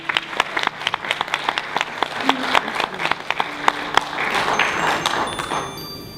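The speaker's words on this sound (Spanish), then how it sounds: "Recibámosla con un fuerte aplauso." A church audience claps in loud, dense applause, with sharp individual claps standing out at first and the clapping thickening into a steady wash toward the end.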